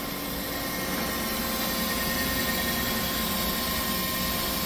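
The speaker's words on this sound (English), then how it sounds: "So now you can hear the spindle." Fadal VMC 15 CNC mill spindle spinning up and running, a steady, even machine whine and broadband hum with a faint constant tone, continuous and close with no talk over it.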